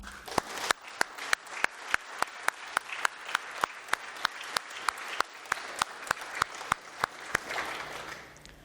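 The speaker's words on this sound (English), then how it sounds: "Join me, please, in a round of applause." A ceremony audience applauds award-winning cadets with a crowd's sustained clapping, punctuated by sharp, regular nearby claps about every third of a second, fading slightly at the end.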